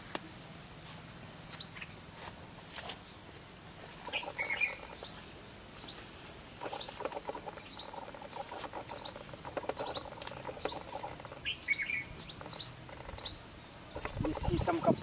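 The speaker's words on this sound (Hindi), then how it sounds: "बहुत चिड़िया बैठी हुई हैं इसमें, चिड़िया भी है, परिंदा है, तोता है, गुलकुरसल है, मधुमक्खी भी है" Birds chirp in a tree, parrots among them, with repeated short high calls at a steady pace over a soft outdoor background, fairly faint and distant.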